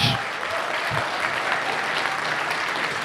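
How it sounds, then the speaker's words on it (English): A convention audience applauds guest John Davey after an interview, a steady, dense wash of many hands clapping throughout, moderately loud and even, with no pause. "please give a round of applause for John Davey"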